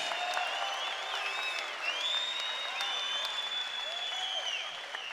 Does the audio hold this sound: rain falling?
no